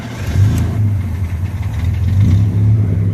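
A carbureted car engine running close by, a low rumble that rises and falls as it revs, fairly loud with no talking.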